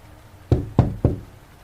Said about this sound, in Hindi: अगर कोई दस्तक कर रहा है तो पक्के से ये कोई दुश्मन है।